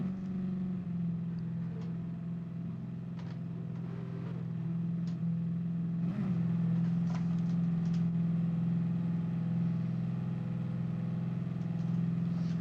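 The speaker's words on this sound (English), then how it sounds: "This car sounds really nice as well, even just like throttling over it" A car's engine in Gran Turismo Sport holds a steady, loud drone throughout, with a slight throttle swell around the middle and no talking over it.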